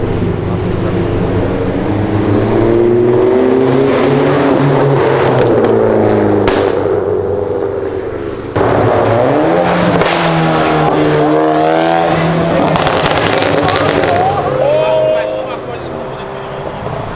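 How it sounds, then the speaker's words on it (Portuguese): Loud Porsche engine roar under acceleration, revs climbing in repeated sweeping pulls with a short dip between, throaty and close, with faint voices in the background. "O ronco dessa Porsche."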